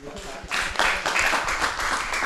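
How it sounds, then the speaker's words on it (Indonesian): An audience at a political oration bursts into applause, dense clapping that rises after a brief voice and continues loud and steady with a speaking voice over it. "Tepuk tangan untuk anak muda."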